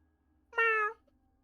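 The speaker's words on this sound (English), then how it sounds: "you hear Slime Cat." A cat gives a single clear, close meow of about half a second in an otherwise quiet room.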